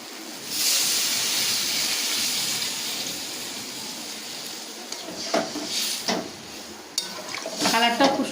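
Water is poured into a pan of spiced potato and eggplant for a fish curry, giving a loud steamy hiss that slowly fades, followed by scraping stirs and clinks of a spoon against the pan.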